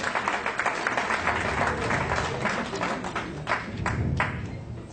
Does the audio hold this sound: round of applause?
yes